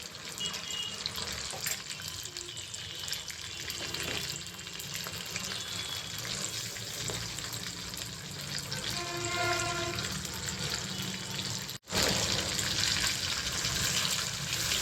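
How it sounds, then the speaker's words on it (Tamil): Prawns for Prawn 65 frying in hot oil, a steady broad sizzle and crackle running throughout, fairly loud and close, with a brief dropout near the end and no talking. "நல்லா ஃப்ரை ஆகிட்டுருக்கு."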